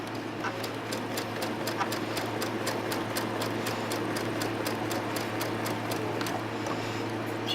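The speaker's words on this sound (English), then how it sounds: "we're going to sew from one corner to the other" A sewing machine stitches a quilt block from corner to corner in black thread, its needle ticking in a fast, even rhythm over a low motor hum, close and steady throughout.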